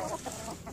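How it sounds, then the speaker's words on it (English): Chickens cluck faintly in a backyard garden during a damson prune harvest, a single brief burst of soft clucking with no talk. "Wilted ones for the chicks"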